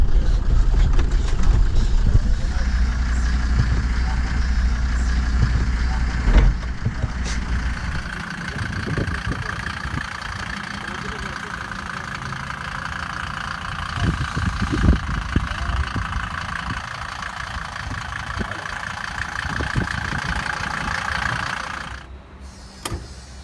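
An old Mercedes-Benz engine idles steadily up close, its low rumble continuous throughout, with a brief shift in tone partway through before it quiets near the end.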